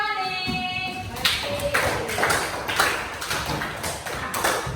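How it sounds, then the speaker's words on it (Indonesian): Schoolchildren in a classroom break into applause, a burst of scattered clapping that starts after a moment and fills the rest of the stretch, fairly close and steady. "Tepuk tangan untuk"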